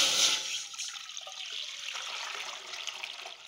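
About one and a half litres of water is poured into a pan on a stove for boiling dal, giving a short, bright splashing rush that starts strong and then settles into a softer trickle.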